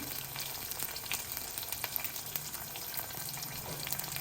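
Dried red chillies frying in hot oil as a tempering for buttermilk stew: a steady, faint sizzle with fine crackles and pops running throughout, no voices.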